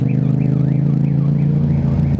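Car alarm wailing on a road in Ayancık, Turkey, a loud, close, continuous warbling siren that sweeps up and down in repeating cycles over a low engine hum.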